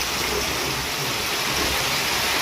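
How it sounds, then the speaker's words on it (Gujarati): Heavy rain pours down in a Saurashtra village, a dense, even wash of falling water that stays constant from start to finish, with no voices. "એમાંની બહુ વરસાદ આવ્યો"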